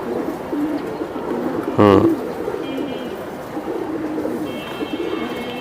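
Silver giribaj pigeons give a short, close coo that rises briefly above steady background noise.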